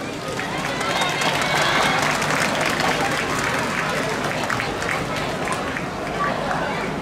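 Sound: audience applause and cheering

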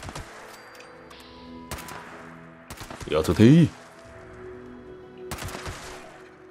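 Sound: gunfire and explosions in Fallout 76 video game

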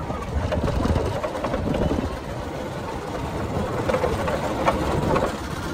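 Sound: motorbike engine while riding

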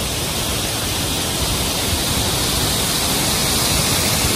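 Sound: majestic waterfall falling onto the road

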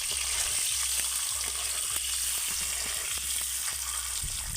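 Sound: eggs frying lightly in oil with turmeric

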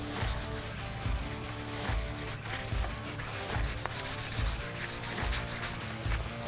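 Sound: hand sanding a forged hunting knife with 220 grit sandpaper

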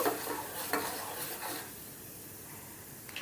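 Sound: tempering spices being stirred and fried in a pan

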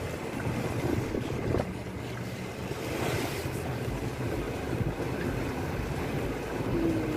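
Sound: fishing boat riding sea waves

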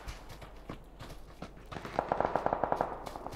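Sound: UMP submachine gun fire in video game

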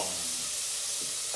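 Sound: onions frying in a hot pan

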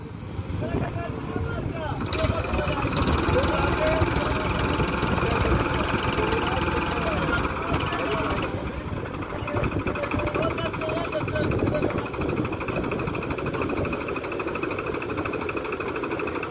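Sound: Mahindra tractor engine straining while stuck

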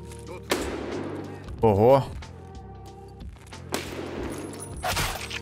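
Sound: gunfire from a bot in a video game

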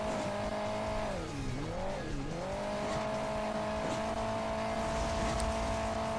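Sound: car engine and skidding tires in Hill Climb Racing 2 video game

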